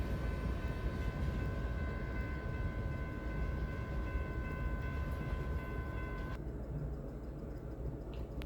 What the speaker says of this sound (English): Here comes the end of our train